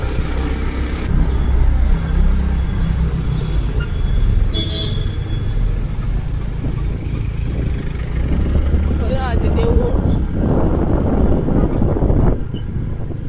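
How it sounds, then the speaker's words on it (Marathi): Heavy road traffic near Bambolim, Goa, with steady engine rumble and the whoosh of passing vehicles, a loud car horn sounding once, and people talking over the din throughout. "ट्रॅफिक भरपूर सामकें"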